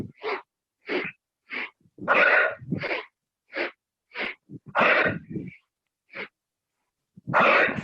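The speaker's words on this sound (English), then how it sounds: "1 powerful exhale out of your mouth" Powerful breaths pushed out through the mouth during yoga breathing: about a dozen short, forceful huffs in a steady rhythm, close and clear with quiet gaps between, and a few longer exhales among them.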